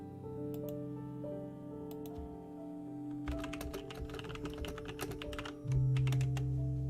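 Computer keyboard typing: a quick burst of clicking keystrokes in the middle of the stretch, close and fairly clear, over a steady low electrical hum with no talking.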